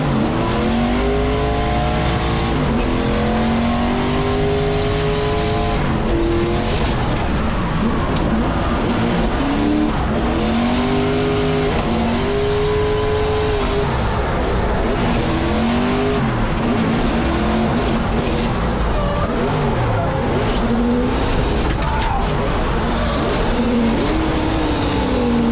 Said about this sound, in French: le pilote américain qui fait chauffer la GT86 Aisin